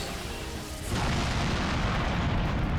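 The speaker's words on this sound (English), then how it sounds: "Such a satisfying animation. Explosion." A Dragoon explosion attack in the PlayStation RPG Legend of the Dragoon against the Feyrbrand secret boss, a dense roaring blast that swells suddenly and holds as a loud, sustained rumble to the end.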